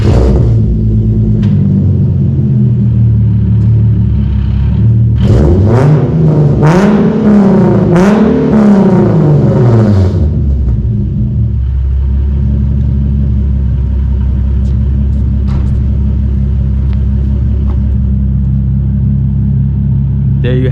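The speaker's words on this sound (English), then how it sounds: "I'll go ahead and turn the car on and I'll give you guys a little rev" A Nissan 370Z starts up and revs inside a parking structure, a loud rumbling idle rising into a few sweeping revs that fall back, echoing off the concrete before settling to a steady idle.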